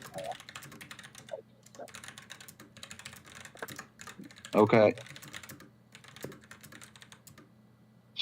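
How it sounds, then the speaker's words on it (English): Close computer keyboard typing in a quiet room, rapid uneven clusters of key clicks with short pauses, broken by a brief spoken word and a louder burst midway. "I'll do typing instead."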